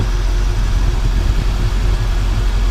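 A 1985 Chevrolet K5 Blazer with an engine showing 96K miles idles smoothly. A loud, steady, even low rumble runs close by, without talk.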